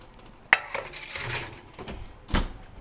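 A pan of buttermilk biscuits slid into a home oven, giving a sharp metallic clank, some shuffling and scraping, and a duller thud near the end, all close by with no talking.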